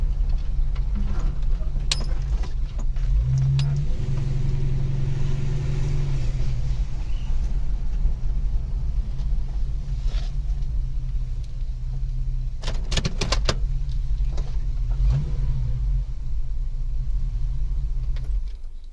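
A Holden HK car engine drives home, a steady loud low rumble running throughout with brief louder bursts near the middle, no talk over it.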